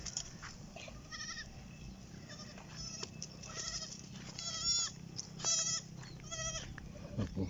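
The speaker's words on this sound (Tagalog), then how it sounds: "Ayan po sila mga munting kambingan." Several small goats bleat repeatedly at close range while being herded near a fishpond, their calls overlapping over a steady low background hum.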